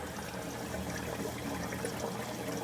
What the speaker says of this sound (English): as it draws air from the drain, it will bubble and aerate the water